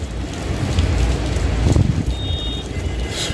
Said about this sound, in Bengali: কি অবস্থা বৃষ্টির মধ্যে